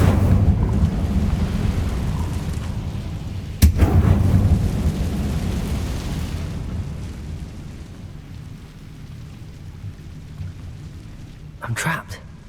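A fire spell cast in the Hogwarts Legacy video game lands as a sharp crack with a rumbling burst, followed by a long roaring, crackling wash that slowly fades. A second brief flare erupts near the end.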